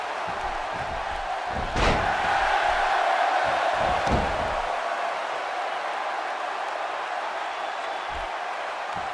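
A loud, continuous roar from a wrestling event crowd, steady cheering filling the hall, with heavy thuds and slams from the ring in the first half; no clear talk over it.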